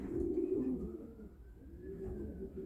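Two-year-old and yearling homing pigeons coo softly inside a loft, low throaty calls rising and falling close by, with a faint background hum and no voices.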